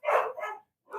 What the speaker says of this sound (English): I'm assuming that dog's barking behind me.